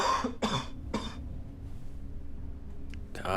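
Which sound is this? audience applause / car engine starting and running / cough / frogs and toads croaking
cough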